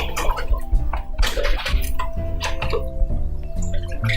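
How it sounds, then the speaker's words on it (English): Water is poured from a cup into a bottle of pasta sauce for a one-pot lasagna, a loud, continuous gurgling splash close to the microphone. "we're going to pour about a cup of the water into each bottle"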